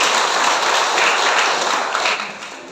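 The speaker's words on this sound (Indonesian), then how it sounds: "Kita tepuk tangan sebagai ucapan selamat datang." Church congregation at a Sunday Advent service claps to welcome a new member, a full, close round of applause that holds steady and then starts to fade near the end.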